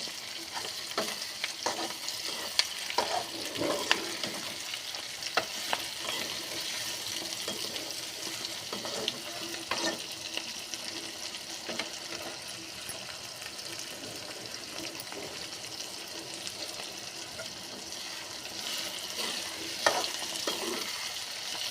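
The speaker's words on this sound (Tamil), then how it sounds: "இப்போ பூண்டு அப்படியே அது எண்ணெயில் பொரியவும் வெங்காயம் கருவேப்பிலை போடுவோம்" Garlic, onion and curry leaves fry in hot oil for a brinjal stir-fry, giving a continuous close sizzle with scattered crackles and light stirring scrapes throughout.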